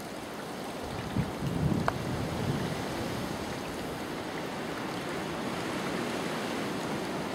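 Water from a garden pond waterfall pours in a steady, close rushing splash, constant and broadband with a few faint knocks early on.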